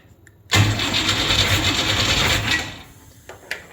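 Starter cranking a big block engine swapped into a 1959 GMC truck: one loud, close burst of steady cranking that runs about two seconds and then stops, with no voices.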